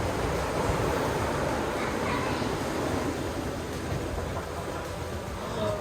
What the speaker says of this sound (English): Oh my gosh, I can hear the ocean.